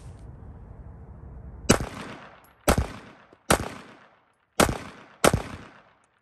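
A SIG P365 pistol with a Spectre Comp compensator fires 147 grain subsonic rounds: five sharp, loud gunshots spaced about a second apart, each ringing out briefly over a quiet background.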